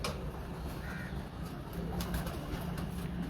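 Soft cooing from a Chini breeder pigeon, low and fairly steady beneath a constant hiss of room noise, with no talking.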